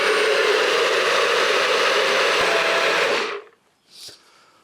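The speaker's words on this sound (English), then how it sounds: "I have to say this NutriBullet, brilliant for purees." A NutriBullet blender pureeing roasted butternut squash roars steadily at close range for over three seconds, then cuts off and winds down, followed by a brief faint clink.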